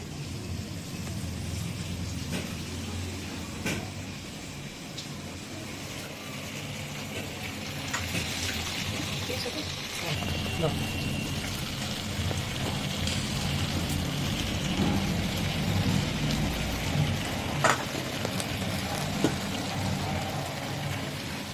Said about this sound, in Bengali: আর এবার দিয়ে দেবো এই যে ধুয়ে রাখা চিকেন।